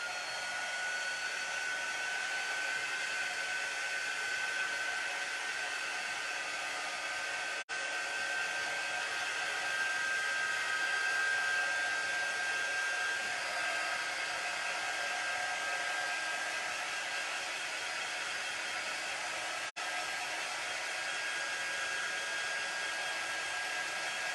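A hair dryer blows steadily on a handmade DIY sign, a continuous close whoosh with a faint motor whine, holding level for the whole stretch apart from two very brief dips.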